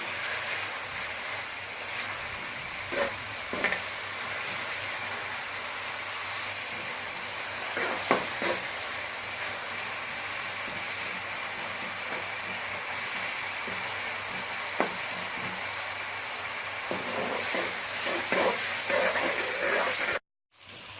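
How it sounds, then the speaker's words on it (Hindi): Onions sizzle steadily in a hot pan for chicken masala with a constant frying hiss, broken by occasional soft scrapes and knocks of stirring. "प्याज को साथ साथ खिलाते रहें"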